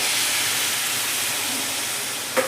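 Chickpea cooking water hitting a hot pan of spiced chickpeas for chole chaat, a loud steady steamy hiss that holds for the whole moment, ending with a brief knock.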